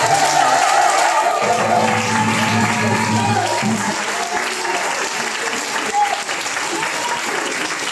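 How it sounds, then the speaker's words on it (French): A church congregation at a Methodist harvest festival service applauds the Lord with sustained, dense clapping that fills the room, steady throughout with voices and music underneath. "tu vas acclamer le Seigneur pour cette dimension"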